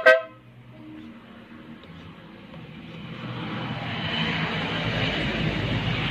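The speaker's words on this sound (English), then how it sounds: "loud horn." Loud aftermarket horn on a Yamaha Sniper 150 motorcycle gives a sharp blast at the start, followed by a sustained, broad, rising drone that stays loud throughout.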